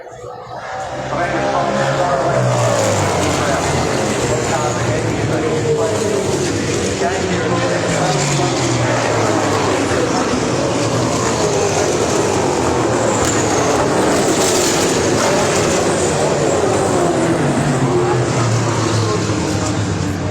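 A pack of race cars at Pukekohe Park Raceway streams into a corner, engines roaring loud and continuous with rising and falling pitch as they pass. A commentator talks over the racket throughout.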